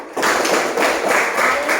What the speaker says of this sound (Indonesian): Tepuk tangan untuk Nikel.